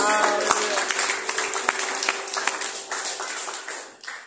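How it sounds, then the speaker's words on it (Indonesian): A church congregation applauds during a sermon, scattered claps of many hands rising over sustained musical tones, fairly close and lively, tapering slightly toward the end. "Tepuk tangan bagi Yesus."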